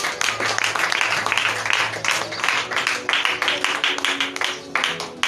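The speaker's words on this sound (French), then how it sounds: "Acclame." A church congregation applauding during a French-language service, dense sustained clapping from many hands filling the room throughout, with a faint voice underneath.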